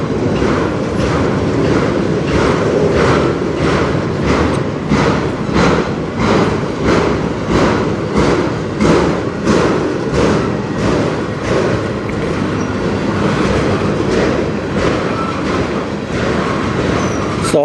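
A freight train rolls steadily along the Strathroy Subdivision near Sarnia, its loud, continuous rumble overlaid with a regular clickety-clack of wheels passing rail joints as it slowly gathers speed.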